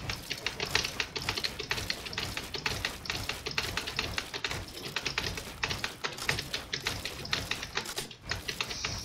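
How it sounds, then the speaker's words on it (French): Fast typing on a computer keyboard, a dense and continuous clatter of keystrokes without a break, heard close against a busy background. "d'entendre le clavier qui s'excite"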